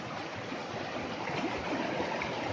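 Snowmelt water from the mountains flows in a stream, a continuous close rushing and burbling with no pauses or voices.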